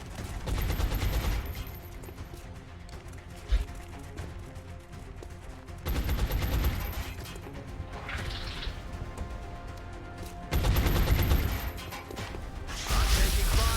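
Gunfire in the XCOM Long War video game, with repeated bursts of rapid shots and crashes in loud clusters, separated by quieter stretches of mechanical ambience.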